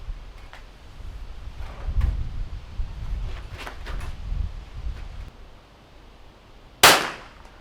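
Rifle shots striking steel targets during NRL22 practice, heard as a few faint distant impacts spread over low background rumble, followed by one loud, sharp, close report near the end.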